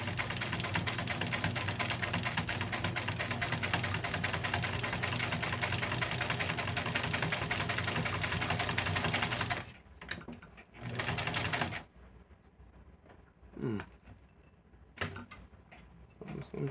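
A Singer 206 sewing machine runs with the needle fitted, a steady loud mechanical whirring drone for about ten seconds, then stopping and starting in short uneven bursts as it seems to jam and stick.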